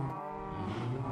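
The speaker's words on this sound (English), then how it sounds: "Oh, the cows are mooing." A farm cow in Minecraft lets out a single long, low moo, close and steady, with no talk over it.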